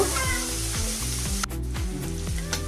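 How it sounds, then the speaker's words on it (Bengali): Spice paste frying in oil with chopped onion until it reddens, for a pabda fish curry, giving a steady close sizzle over a repeating low musical bass pattern. "পেস্টটা আমি একটু লাল করে ভেজে নিব"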